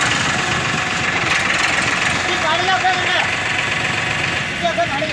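Two tractors, including a Farmtrac 60 Supermax, straining to pull a stuck rotavator, with a dense, steady engine roar running close and loud throughout and people talking under it.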